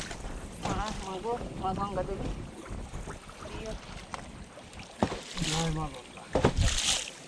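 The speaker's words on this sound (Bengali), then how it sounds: "প্রচণ্ড ঢেউ হচ্ছে" Strong river waves and wind buffet a small fishing boat in a mangrove river by the Marichjhapi forest: wind roars over the microphone and water slaps the hull, with someone talking over it at intervals.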